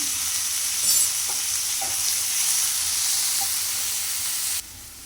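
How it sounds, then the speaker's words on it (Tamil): Tomatoes with onions and a little salt frying in a pan, giving a loud, close, continuous sizzle with a few faint stirring knocks, until the sound drops away near the end. "தக்காளி நல்லா வதங்கட்டும்."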